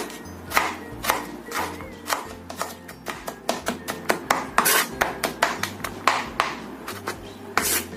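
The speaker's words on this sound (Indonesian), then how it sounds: "Kemudian kita gunakan 3 siung bawang putih. Ini kita cincang agak kasar aja." A knife coarsely chops three garlic cloves on a board, giving quick, irregular thuds and clicks close by with a steady rhythm. No one speaks.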